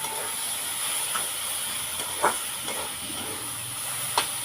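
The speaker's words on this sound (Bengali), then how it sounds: "ভাজা ভাজা হয়ে যাচ্ছে, আরও ভাজা হবে।" Dhenki greens with shrimp fry in a pan with a constant quiet hiss of steam and sizzle, punctuated by a few sharp spatula taps against the pan.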